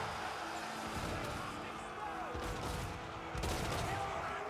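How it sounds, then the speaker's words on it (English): Ranged units firing in a Total War: Warhammer 3 fantasy battle, with scattered volleys and sharp cracks over a busy battle din, heard under steady narration. "Guns now opening fire on the slightly more slow-moving, devoted marauders of Slaanesh"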